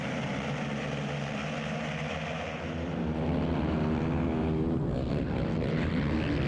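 ATV motocross quads drop off the starting gate at a Spring Creek national race, their engines screaming at high revs as a loud, dense, rising roar heard from a helmet camera.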